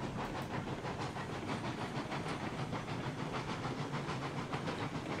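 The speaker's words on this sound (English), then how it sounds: "Letting off just a little bit of steam every now and then." A steam locomotive in RailRoads Online lets off steam, a steady broad hiss mixed with rhythmic chuffing pulses, fairly faint and continuous with no voices.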